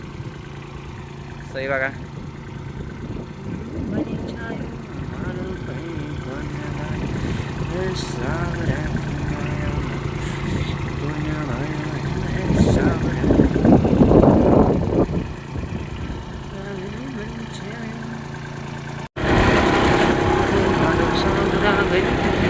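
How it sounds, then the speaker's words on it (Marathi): A farm tractor used for spraying a coriander field runs at a steady mid-pitched idle as it creeps along nearby. The engine hum holds under continuous talking, swells briefly, then turns louder and rougher near the end. "स्वतःहून बघा ट्रॅक्टर माझ्या मागे येतोय चालत"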